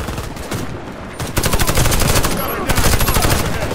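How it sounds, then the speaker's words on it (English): Rapid submachine gun bursts fire in the Warface shooter game, a fast chattering rattle that starts midway and stays loud and dense over the game's background sound. "I like this submachine gun, it's fast."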